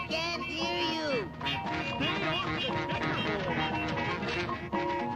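Cartoon dodo birds from the Care Bears movie squawk and quack in a busy overlapping chorus, loud and continuous, with cartoon music or effects mixed in.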